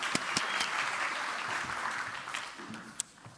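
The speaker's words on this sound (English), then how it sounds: "please, a round of applause while he comes on stage" A conference audience applauds as a speaker walks on stage, giving fairly soft, steady clapping with a few sharper individual claps standing out near the end.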